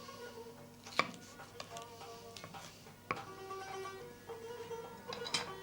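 A knife chops sweet pepper on a board in an Azerbaijani home kitchen, giving a few sharp, well-spaced cuts with softer slicing in between, close but quiet.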